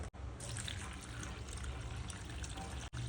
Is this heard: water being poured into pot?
yes